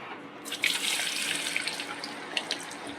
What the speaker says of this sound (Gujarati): તેલ આપણું સારી રીતે ગરમ થઈ ગયું છે. હવે આપણે ચિપ્સ એડ કરી દઈશું.